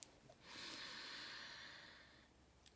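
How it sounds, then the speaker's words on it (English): A single long, soft exhale through the mouth as part of a guided relaxation breath, a steady airy rush lasting about two seconds, close and quiet with no talking. "you're going to exhale out through your mouth"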